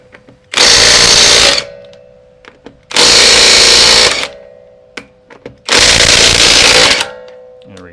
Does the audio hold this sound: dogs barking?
no